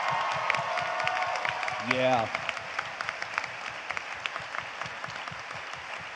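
A convention panel audience on voice acting for animation applauds and cheers, with a whoop rising amid steady clapping before it thins into scattered claps; a voice speaks briefly.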